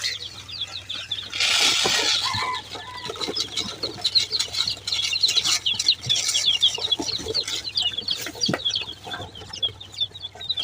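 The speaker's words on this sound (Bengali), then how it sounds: "22টি মুরগির বাচ্চা আছে" A flock of about twenty-two newly hatched native chicks cheeps constantly in high chirps close up while feeding, mixed with pecking and scratching noises and a short louder rustle.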